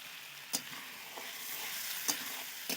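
Mutton sizzles steadily as it is stir-fried in a pan for home-style cooking, with a few sharp clicks of a spatula scraping the pan at intervals; no one talks.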